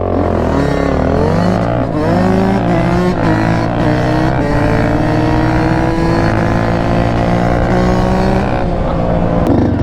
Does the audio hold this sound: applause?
no